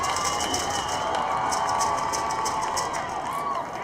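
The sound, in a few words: football game crowd cheering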